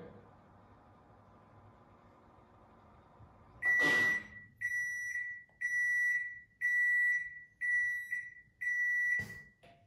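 A Sharp ES-F950P-GY washing machine sounds six evenly spaced electronic end-of-cycle beeps, clear and fairly loud, after a quiet stretch and a click, ending with another thump.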